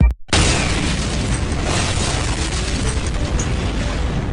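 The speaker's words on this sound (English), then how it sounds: "The bombs will go off in 5 seconds." Bombs blow up a mountain in a villain-themed cartoon contest: a sudden blast after a brief gap opens into a sustained, loud roaring rumble of explosion and debris lasting several seconds, with no talk.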